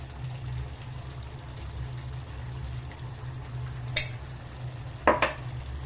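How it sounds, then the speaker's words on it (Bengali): A spoonful of ghee added to a pan of food and stirred, a low, soft background sizzle with quiet scraping and two brief metallic clinks of the spoon against the pan. "এবার আমি ওপর থেকে 1 চামচ ঘি দিয়ে দেব"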